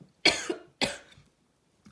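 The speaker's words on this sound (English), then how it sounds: "I'm gonna cough." Two sharp coughs close together, loud and near, followed by a faint third burst after a short pause.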